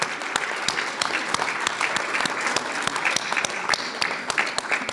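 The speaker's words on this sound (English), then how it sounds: "Give a round of applause to the performers from the Tibetan Performing Arts Alliance." A crowd applauds performers from a Tibetan performing arts group at the opening ceremony of an annual general meeting. Loud, continuous clapping with many sharp individual claps runs through the whole stretch, close and full.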